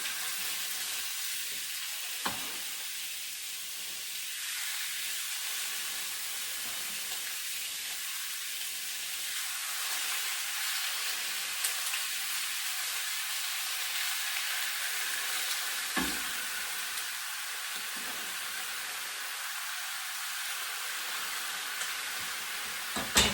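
Pork pieces frying in a hot pan for red braised pork, a loud continuous sizzle and hiss that stays level throughout, with a couple of faint knocks.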